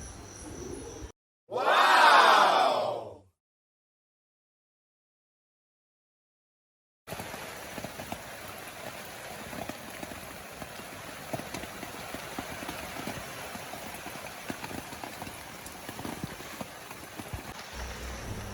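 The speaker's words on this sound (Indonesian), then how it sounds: "Suasana pagi hari di puncak Goh Lomo diguyur hujan dan kabut yang cukup tebal." Steady morning rain falls on a foggy mountain summit campsite at Cot Goh Leumo in Aceh Besar, a dense continuous hiss that begins after a brief loud burst and a stretch of silence.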